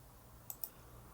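Two quick, faint computer mouse clicks about a tenth of a second apart, close and crisp over a quiet room hum, while entering spreadsheet formulas for homework.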